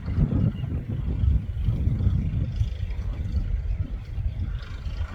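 A tractor pulls a tined cultivator through a farm field, its engine a steady low rumble that runs continuously and fairly loud from close by, with no talk.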